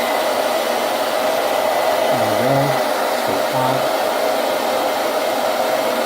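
A hair dryer blows steadily and loudly on a drop of liquid on lab paper during a chemistry demonstration, a continuous airy whoosh with a faint low hum running through it.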